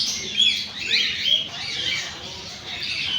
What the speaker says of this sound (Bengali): বিভিন্ন ধরনের টিয়া পাখি আর হচ্ছে কবুতরগুলো